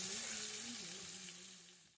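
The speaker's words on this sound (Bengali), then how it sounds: "ইলিশ মাছ ভাজা গরম গরম ভাজলে ভালো" Hilsa fish frying in a pan, a steady broad hiss of hot oil fading slightly toward the end, close and moderately quiet, with faint speech underneath.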